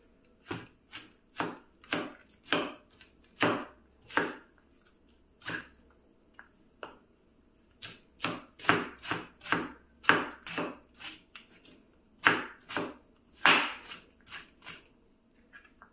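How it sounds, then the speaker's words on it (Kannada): Knife chopping raw jackfruit into small pieces on a board, sharp crisp taps coming in uneven runs and clusters with short pauses, close and clear, alongside a faint steady high insect-like hum. "ಇದನ್ನು ಸಣ್ಣದಾಗಿ ಕಟ್ ಮಾಡ್ತೇನೆ"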